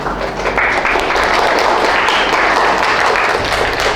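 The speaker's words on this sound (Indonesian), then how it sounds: "Silakan berikan tepuk tangan dan kembali ke tempat duduk." An audience in a classroom gives steady applause after a group presentation, dense and close, with clapping continuing evenly through the whole stretch.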